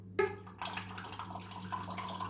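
Coconut water is poured into a glass in a brief, quiet splash and gurgle that starts abruptly and fades within a couple of seconds, with a low hum in the background.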